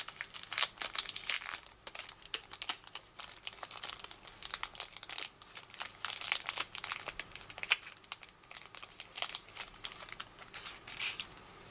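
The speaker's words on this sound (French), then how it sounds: "pochette de stickers. On va les ouvrir." A plastic pouch of stickers is opened, with close crinkling and crackling of thin plastic in irregular bursts and short pauses, and no talking over it.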